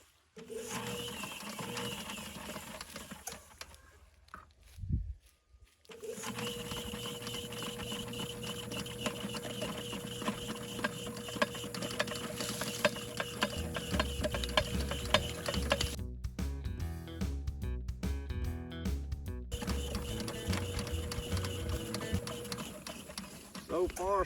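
A Vevor electric drain cleaner's drum spins clockwise to feed out the snake, giving a steady mechanical whir with ticking and ratcheting, briefly cutting out and then resuming with heavier rattling.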